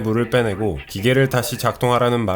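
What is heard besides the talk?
None of the usual background noises is heard.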